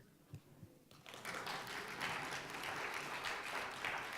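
Audience applause swells in after a brief pause, a dense, sustained wash of clapping from a large crowd that holds steady and fairly loud to the end.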